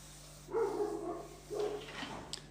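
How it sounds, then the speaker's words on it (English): Dogs bark at night in two short bursts of muffled, slightly distant barking, separated by a pause, over a steady low hum. "And now the symphony of the dogs will start."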